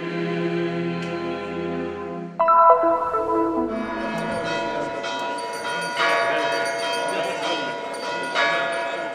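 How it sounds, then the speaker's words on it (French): Church bells in Bethlehem ring in full peal, loud overlapping strokes that swell after a couple of seconds into a dense, continuous clangour. "Les cloches sonnent à toute volée."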